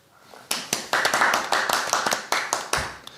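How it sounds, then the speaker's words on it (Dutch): A short burst of hand clapping, a few people applauding close by with uneven, irregular claps for about three seconds. "Nou, applaus."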